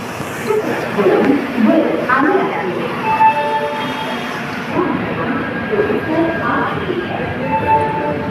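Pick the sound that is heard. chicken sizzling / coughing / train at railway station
train at railway station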